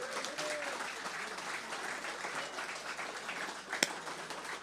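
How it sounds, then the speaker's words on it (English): Audience applause for a piper at a traditional music concert evening, a dense steady wash of many hands clapping throughout, with one sharp louder clap near the end. "Big round of applause"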